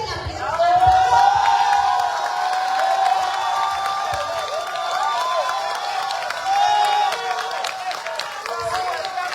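A large audience at a public book presentation applauds and cheers, a dense sustained roar of clapping and shouting filling the whole stretch, with voices rising through it.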